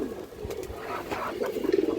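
A large male pigeon of a fancy breed gives a few soft, low coos, fairly close, with some faint background noise and no talk.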